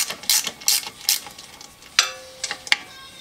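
A GearWrench long-handled ratchet being worked in short bursts, with rapid clicking pawl strokes in quick groups followed by a few sharper, isolated clicks, close and fairly crisp with no talking.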